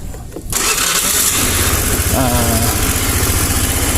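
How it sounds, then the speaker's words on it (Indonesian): A Honda Vario scooter with a burnt, blackened spark plug fires up abruptly after a short quiet moment, then settles into a steady, loud, close idle with a brief voice over it. "Oke, sekarang motornya udah nyala."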